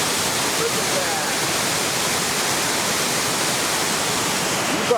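Water thunders at Hoover Dam, a loud, steady roar of rushing water that fills the whole stretch without a break.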